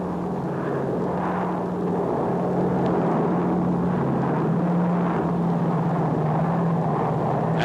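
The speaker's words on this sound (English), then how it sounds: "An unmodified C-47 can lay as much as 16 miles of wire at a single run." A C-47 transport airplane flies overhead while laying field telephone wire, its steady piston-engine drone continuous and moderately loud throughout, with no talk.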